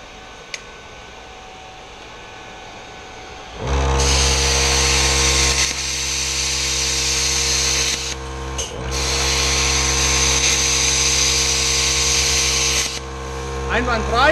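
A Hypertherm Powermax 30R plasma cutter slices 6 mm structural steel, a loud steady hissing roar starting a few seconds in and running almost continuously with a brief dip midway, over a compressor hum.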